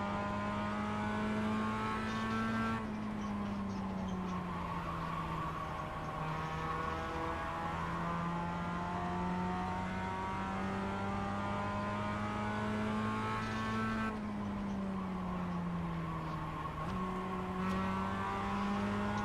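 A NASCAR Cup race car engine drones loud and steady at Talladega, heard from onboard, its pitch holding high with brief dips and shifts between long sustained stretches.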